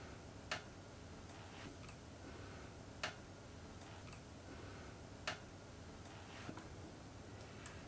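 Small screws being tightened on a RZR Zero Stop ring of a Vortex Razor HD scope, heard as faint, sparse clicks spaced a couple of seconds apart over a quiet background.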